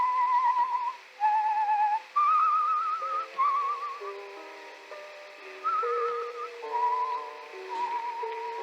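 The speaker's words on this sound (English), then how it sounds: "You whistle yourself like that very often?" Someone whistles a melodic tune alone, phrases of clear sustained notes rising and falling, with short pauses between them and no talking.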